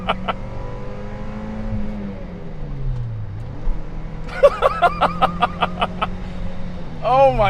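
A Toyota MR2 ZZW30 engine drones steadily from inside the car, its pitch dipping and rising as it accelerates, under a voice and whooping that come in toward the end.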